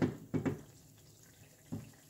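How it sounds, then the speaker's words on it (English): A butter and dry-seasoning sauce boils in a pan, giving a few soft bubbling pops at uneven intervals over a quiet hiss. "So I'm gonna let that boil."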